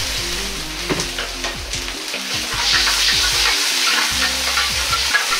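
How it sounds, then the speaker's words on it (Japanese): Sweet and sour sauce for sweet and sour pork comes to a boil in a pan, giving a close, steady sizzle and bubbling with occasional stirring clatter. "甘酢だれを一度しっかりと沸かします。"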